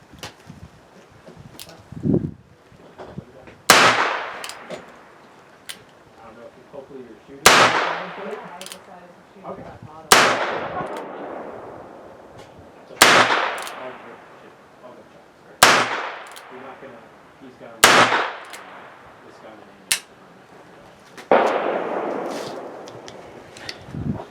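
Single shots from a Herbert Schmitt 22S .22 revolver fired outdoors at a range, about eight sharp cracks spaced a few seconds apart, each ringing out with a trailing echo.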